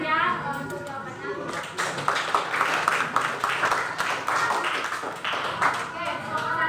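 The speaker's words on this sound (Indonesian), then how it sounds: "biar tepuk tangan ya untuk jawabannya" Classroom students clapping for a group's answer, a scattered, uneven patter of hands under a teacher's voice and children's chatter, close and moderately loud.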